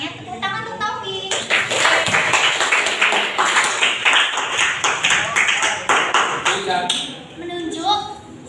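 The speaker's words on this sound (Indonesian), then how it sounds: "Tepuk tangan untuk Taufik." A classroom of students claps for a classmate after his group discussion, a dense burst of hand claps that swells and holds for several seconds before tapering off, with scattered voices mixed in.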